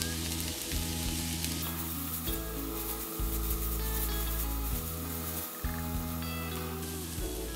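Diced onion and celery fry in a hot pan for a chicken pot pie, giving a steady, close sizzle throughout with brief dips and bursts as the vegetables are stirred and turned, and nobody speaks.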